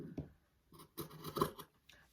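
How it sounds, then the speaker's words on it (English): Sharp scissors cut through craft fabric for a toy monkey's legs, making a few quiet, close crisp snips spaced unevenly with short pauses between them. "So a nice sharp pair of scissors."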